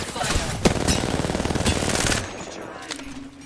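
Rapid automatic gunfire in the video game Apex Legends, a loud sustained burst of evenly spaced shots lasting about two seconds before cutting off, with faint in-game sounds after.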